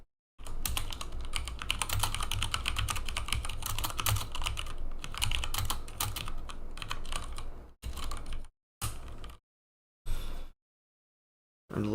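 Fast, steady clicking of typing on a mechanical keyboard, up close and alone, that breaks into a few short bursts separated by silence near the end.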